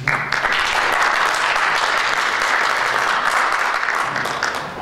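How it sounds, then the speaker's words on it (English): A crowd applauds a candidate for Portage County sheriff at an evening campaign event, with steady, full clapping that holds for the whole stretch before tapering slightly at the end. "Round of applause for Ken Howe"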